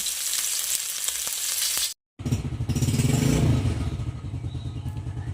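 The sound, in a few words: frying tilapia and pork belly in oil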